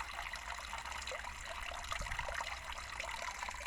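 Spring water trickles steadily at an outdoor spring, a continuous close splashing flow with no voices.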